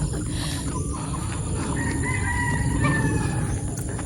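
A gamefowl rooster crows at a game farm, a drawn-out crow rising over loud constant background noise with faint clucking nearby.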